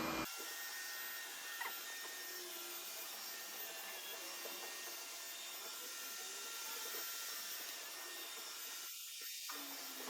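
A robot vacuum cleaner running through a house, a steady close whirring motor hum with brushing noise that holds evenly throughout, with a brief clunk near the start and a short knock near the end.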